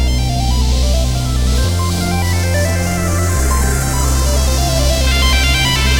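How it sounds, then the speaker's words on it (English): A bright sequenced Polybrute 12 synth lead arpeggiates over a thick, sustained Moog synth bass that steps between notes every couple of seconds. "I had this beautiful lead on the Polybrute 12, so I sequenced it, and all in context, with the bass from the Moog"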